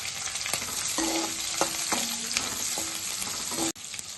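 Cashews and chopped green chillies fry in hot oil for dragon chicken, a loud, close, continuous sizzle with scattered spatters and a few spoon knocks against the pan, no voices.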